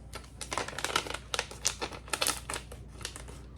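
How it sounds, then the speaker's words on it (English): A run of sharp papery crinkles and snips as kitchen scissors cut open a baking mix package, close and irregular, with brief pauses between bursts; no talking. "cut open, or at least make a cut into the bag"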